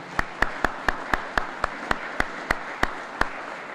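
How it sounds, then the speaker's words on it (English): At a Merchant Navy Day of Remembrance gathering, sharp, evenly spaced claps ring out, about a dozen in a slow, steady rhythm, each distinct and fairly close with a faint room hush between them. "if you'd like to give him a round of applause for helping make this available"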